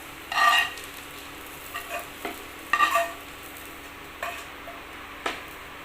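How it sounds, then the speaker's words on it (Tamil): Intermittent short scraping and stirring bursts as coconut is roasted golden in a pan, with a faint sizzle underneath; quiet between the strokes. "இப்போ தேங்காய் பாருங்கள் நல்லா அப்படியே பொன்னிறமாக வறுத்து வந்துருச்சு"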